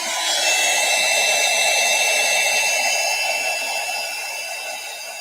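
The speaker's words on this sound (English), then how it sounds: "my heat gun is already hot. So I'm just going to put it on again for a second" A heat gun used for a framed circle deer craft piece, blowing as one steady, loud airy whoosh with a fan whine that holds throughout and fades slightly toward the end, with no voices.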